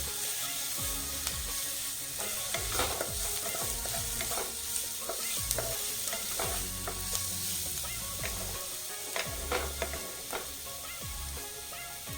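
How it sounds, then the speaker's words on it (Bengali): Ginger garlic paste sizzles and fries in a pan while a utensil stirs it, scraping and knocking steadily over a constant crackle, close and fairly loud, with no talk. "এখন দিয়ে দিচ্ছি 1 চামচ আদা রসুন বাটা। কিছুক্ষণ নেড়ে নেব।"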